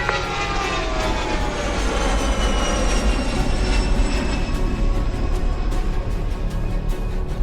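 The Enola Gay bomber's engines roar loud and steady during takeoff, a dense continuous drone with no break and no voices.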